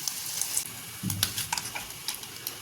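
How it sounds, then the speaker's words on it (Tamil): Paneer frying in melted butter, a faint crackling sizzle with scattered small pops and a soft low bump, fairly quiet and without talk. "பன்னீரை 2 பீஸாக போட்டு அதை ஃப்ரை பண்ணி எடுக்க போகிறோம்."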